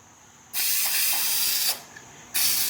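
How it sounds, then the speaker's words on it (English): An upside-down can of spray glue blasts two loud, steady hissing bursts, the first about a second long and the second shorter after a brief pause, close up with no voices. "when I'm finished using this glue is I turn it upside down and spray it until it's clear"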